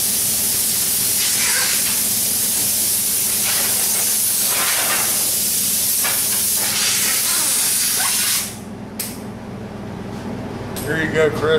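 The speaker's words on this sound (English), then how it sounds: "little blower with a built-in regulator there" Continuous loud hiss of an air blower with a built-in regulator blowing off a surface before priming, steady for several seconds and then cutting back to a lower, sputtering flow.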